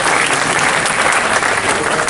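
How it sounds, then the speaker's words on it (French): Loud, dense applause fills the hall at the opening ceremony of the Dakar Court international festival, a continuous wash of many hands clapping at close range with no pauses. "Vous pouvez également les applaudir."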